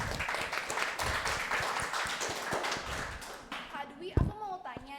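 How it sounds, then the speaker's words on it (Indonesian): Studio audience applauding at a live Indonesian talk show on digital literacy, a dense spread of claps for about three seconds that thins out as a voice speaks over the end. "kita beri tepuk tangan dong untuk Kak Dwi."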